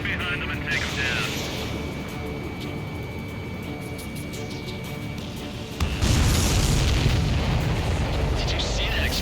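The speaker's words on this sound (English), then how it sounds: "Did you see that explosion?" A supply ship blows up in the jet combat game Ace Combat 7. The explosion hits suddenly partway through, over a steady aircraft drone, and leaves a loud, sustained low rumble afterward.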